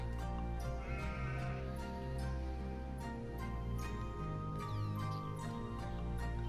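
Goats bleating in the video game Shenmue III, steady bleats heard over a dense, continuous music-like background bed.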